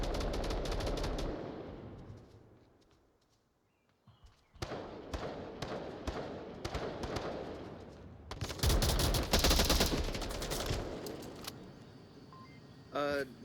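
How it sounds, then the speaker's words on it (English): Gunfire in a competitive match of the VR shooter Onward, rapid bursts of automatic fire in dense volleys with a short lull, loud and sustained, while a voice talks over the shooting. "everyone here just dumping rounds downrange"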